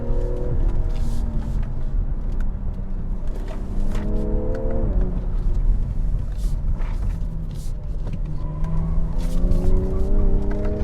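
A BMW M340i xDrive accelerates through a run of corners, its engine note climbing and falling through several revving pulls over a constant low rumble of road and tire noise, heard from inside the car.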